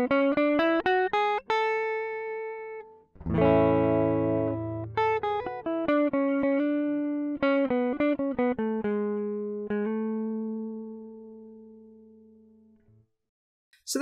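Guitar plays quick single-note major-scale runs climbing and falling in clear plucked notes, a fast burst of low chords in the middle, then a slower descending line ending on a long sustained note, alone without talk.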